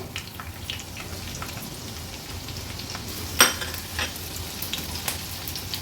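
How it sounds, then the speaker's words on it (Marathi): Green chillies and onion sizzle in hot oil in a pan, a steady close crackling hiss with one sharper pop midway and no voices. "आता फोडणीला आपण हिरवी मिरची आणि कांदा ॲड करूया।"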